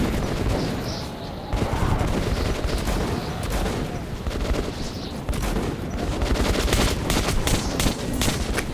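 Rapid bursts of gunfire from enemies on a hill and below in the video game Metro 2033, dense and continuous with overlapping shots throughout.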